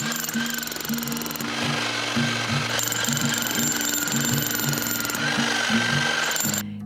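A big drilling machine bores into the earth with a steady, loud mechanical hammering drone, rhythmic low pulses thudding beneath a constant high whine, close by and continuous.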